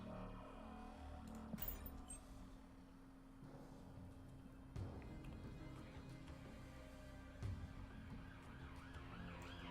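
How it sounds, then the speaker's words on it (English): Ambulance sirens pass outside a home on a hospital route, faint and distant beneath the quiet of the room, with a few soft knocks and clicks nearby. "Apologies if you can hear the ambulances behind me again."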